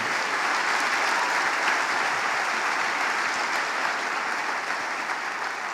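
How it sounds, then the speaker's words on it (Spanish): A church congregation breaks into dense, steady applause during a sermon, many hands clapping together at close range for several seconds with no voice over it. "Den un aplauso al Señor."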